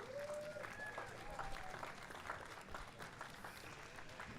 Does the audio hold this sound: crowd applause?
yes